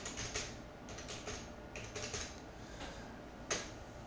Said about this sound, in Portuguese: Então eu vou digitar aqui.